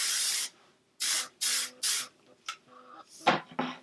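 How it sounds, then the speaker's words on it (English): Hairspray misted onto freshly curled hair in a series of close, loud hissing bursts, three longer sprays followed by several shorter puffs. "we're going to go in with the hairspray"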